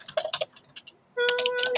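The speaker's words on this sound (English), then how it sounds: "Who's clacking on their keyboard loudly with the hammer?" Loud clacking keystrokes on a computer keyboard, a cluster of sharp clicks followed by a steadier run of typing, close and fairly prominent against faint background.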